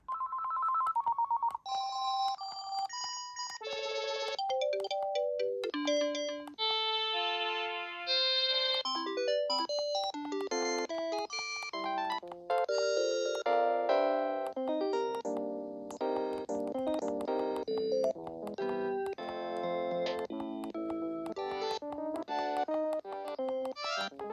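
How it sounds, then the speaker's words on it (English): A Panasonic KX-PRS120 cordless phone plays through a series of its electronic ringtones, bright melodic beeping tunes changing from one to the next, loud and close with no speech. "So we have 40 ringtones, just like on European models since 2011."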